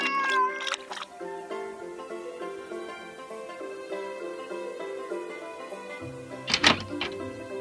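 A cat meows a few times near the start, then quieter background tones, and another short meow burst near the end.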